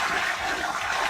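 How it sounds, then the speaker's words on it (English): Water poured from a bucket into a toilet bowl to flush it, a bucket-flush setup draining to a septic tank, heard as a loud continuous rushing gush close by for about a second, with no talking. "all you have to do is dump the water"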